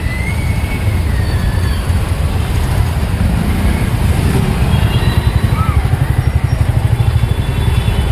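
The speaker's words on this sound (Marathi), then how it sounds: "जास्तीचं ट्रॅफिक आहे मित्रांनो" Heavy road traffic fills a Pune street with a loud, dense roar of engines and motorcycles. A nearby engine idles in a rapid, throbbing pulse toward the end.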